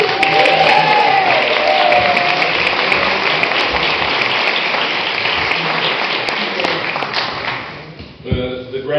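An indoor audience at a human rights day event gives loud, sustained applause that fades toward the end, with a voice starting to speak over it.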